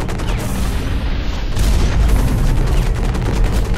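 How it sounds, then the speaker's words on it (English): Grenade explosion in the mech shooter game Hawken, a heavy low booming blast with a rumbling tail that swells and holds loud through the few seconds, with no talk over it. "Alright, I used one of my grenades."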